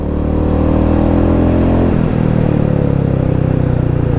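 A Royal Enfield Meteor 350 motorcycle pulls hard in third gear after a downshift, its loud, steady engine note close and continuous, with a brief dip in pitch at the shift before the revs climb again.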